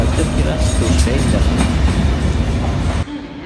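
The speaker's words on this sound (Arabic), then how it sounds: "هاو جا القطار تاعي" A train pulls in, a steady loud rumble of rolling wheels and carriage noise filling the clip before it drops suddenly near the end; a voice is faintly present.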